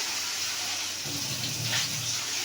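Water poured into a cooking mixture after oil has been worked in, a steady broadband pour that swells briefly in the second half, fairly close with no talk.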